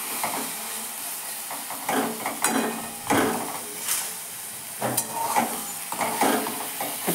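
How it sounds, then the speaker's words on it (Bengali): Dates and tomato stirred in a pan for chutney, with a soft sizzle under repeated scraping strokes of a spoon, several distinct stirring bursts close by and no talking. "আমি যখন একটুখানি দুটোকে ভালো করে একটু নেড়ে চেড়ে নিচ্ছি"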